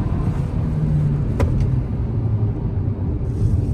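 Loud steady engine drone from a Hyundai Verna Turbo TGDI or Volkswagen Vento in a drag race with a stuck gear, a constant rumble filling the clip with no clear revving changes.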